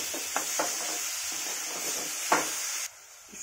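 Mango pulp stirred into sugar in a pan for aam ka halwa: a spoon scrapes and swishes a few times over a steady sizzling hiss, with a couple of sharper scrapes before the hiss drops away.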